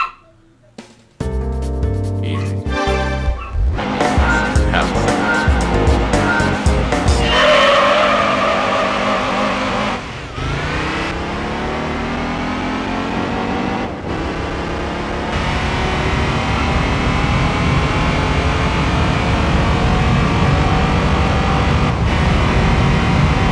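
A front-wheel-drive turbo coupe races through the first turn at Deep Forest Raceway in Gran Turismo 3, with engine revs climbing through gear changes, then long continuous tire squeal and skidding as the car corners, loud throughout.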